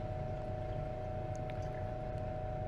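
A gold solution, rinsed out of a filter, is poured into a waste container, making a steady continuous pour beneath a constant humming background.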